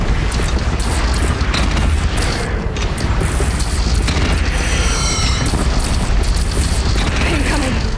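Heavy cannon fire and explosions in the video game Horizon Zero Dawn during a battle, with repeated loud booms and mechanical clatter forming a dense, continuous barrage, with brief shouted voices.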